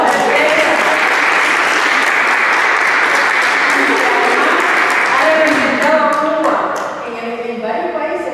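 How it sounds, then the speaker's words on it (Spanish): Sustained audience applause and cheering for an actress and singer at a theater event, dense and loud throughout, easing slightly near the end as some voices and tones emerge over the clapping. "a esta estrella le pido un aplauso"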